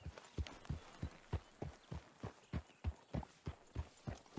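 Rhythmic clip-clop of horse hooves riding at a steady trot in Red Dead Redemption 2, evenly spaced thuds, close and clear with no talking.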